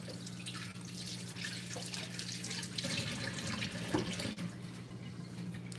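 A tap runs steadily into a sink while hands are rinsed under it, with soft splashing and dripping water throughout, close and moderately quiet.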